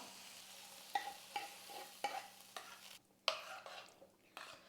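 Fried tomato masala is stirred into rice in a pot, with soft repeated scrapes and light sizzle at a steady rhythm, quiet and close with no talking.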